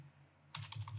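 Keys clatter on a computer keyboard in quick light taps, starting abruptly after a quiet hum and continuing as a soft steady patter, faint and close.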